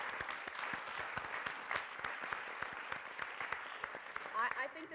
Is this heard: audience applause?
yes